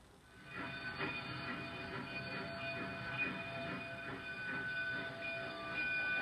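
A Cumbres and Toltec narrow-gauge train rolls steadily along the rails in the mountains with a continuous rumble, clattering wheels and high metallic squealing tones, close by and fairly loud throughout.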